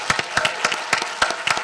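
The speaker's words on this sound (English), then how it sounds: "feel free to give yourself a round of applause, too" Brief burst of applause after a panel discussion, several hands clapping in quick, uneven beats, fairly close.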